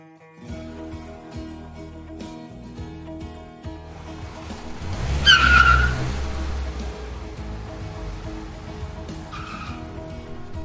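Car driving through a scene in an animated story, heard as a steady engine drone that swells into a loud tire skid and revving burst near the middle, then settles back to a continuous rolling hum.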